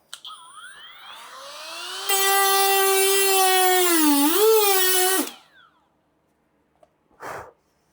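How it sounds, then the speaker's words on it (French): Parkside 12V precision sander-grinder (PPFBSA 12 B2) fitted with its sanding head, spinning up with a high whine that holds steady, wavers under load, then cuts off, followed by a brief click and a short hiss. "Maintenant, on va tester la tête dont je me sers le plus. C'est la tête pour poncer."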